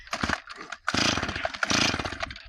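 A chainsaw that is hard to start, readied for cutting firewood in a snowy village, gives two bursts of revving engine noise with a brief pause between them, close and fairly loud.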